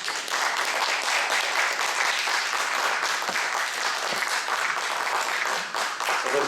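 Steady, full applause from an audience at a talk concert marking a bishop's centennial fills the room, a dense wash of many hands clapping continuously at close range with no voices over it.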